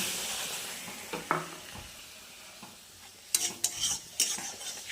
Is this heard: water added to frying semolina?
yes